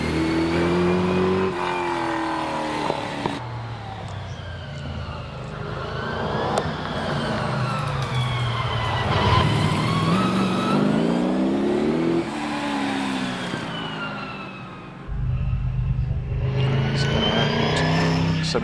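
Race cars climb Prescott hill, a McLaren and a Triumph TR7 among them, engines loud and close as they rev, brake and accelerate through the bends, with pitch rising and falling over a steady roar and a sharp surge near the end.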